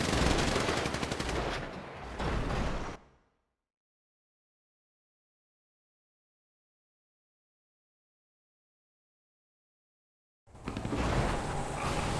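Video game gunfire from a turf-war match: loud, dense bursts of shots for about three seconds, then a long stretch of silence, and another burst of firing near the end.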